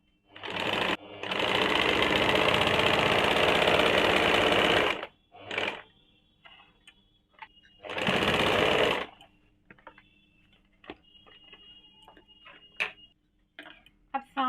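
A sewing machine stitching a seam on a kurti runs in one long loud burst, then a shorter burst, with small ticking and handling clicks in the quiet between.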